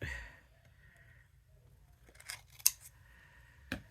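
Scissors snip through small pieces of craft paper for a handmade Christmas card, a few quiet, separate cuts close by with near silence between them.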